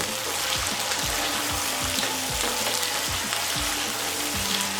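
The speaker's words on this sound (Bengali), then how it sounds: "তো মাংসটাকে আমরা ভালোভাবে এভাবে নেড়েচেড়ে রান্না করে নিব।" Chicken pieces sizzle and fry in a pan while being stirred, a dense continuous crackle with occasional scraping knocks of the spoon, close up and without talk.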